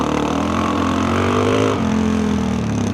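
A lightweight adventure motorcycle's engine revs hard and steadily for about three seconds, loud and close, its pitch climbing and then dipping briefly before it pulls on again, with no talking.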